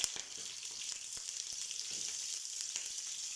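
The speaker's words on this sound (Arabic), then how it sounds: "هنا بتشوفون بنات راح احمسه" Green beans lightly sautéed with garlic, a faint, steady crackling sizzle with occasional soft stirring clicks.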